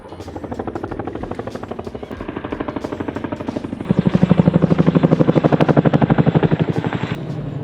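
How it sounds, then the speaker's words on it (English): Loud, rhythmic chopping of a US military helicopter's rotor blades passing close overhead, swelling louder midway and then beginning to fade. "The amount of helicopter traffic that we have here at my house is pretty insane."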